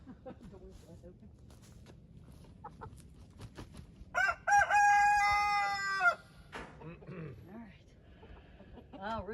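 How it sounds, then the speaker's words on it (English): Chickens and roosters in a coop cluck intermittently, then a rooster gives one loud, close, drawn-out crow mid-way, followed by more scattered clucks and low background chatter. "Oh, roosters are left."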